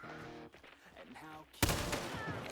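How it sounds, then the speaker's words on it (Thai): In the video game Hunt: Showdown 1896, a single loud, close gunshot cracks out with a rumbling tail, following a stretch of quieter voice talking. "คือกดปุ่มล็อกแล้วยิงไปเลย เมื่อกี้ผมยิง เล็งไม่โดนตัวด้วยนะ"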